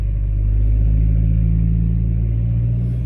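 A big truck rolls by up close, its deep, steady engine rumble loud and continuous throughout with no talking over it.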